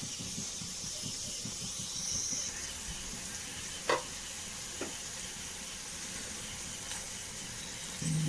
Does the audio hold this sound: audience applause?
no